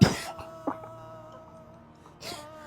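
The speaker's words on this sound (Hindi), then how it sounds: "खांसी नहीं आएगी, पानी पीजिए" Elderly man coughing indoors, a couple of short harsh coughs at the start and end with a faint throat sound between them, quiet and close.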